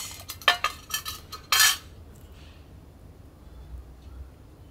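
Metal cutlery scraping and clinking against camp cookware while cooked rice is eaten outdoors after cooking on a twig stove: a quick cluster of close, bright scrapes and taps, then quiet with faint background.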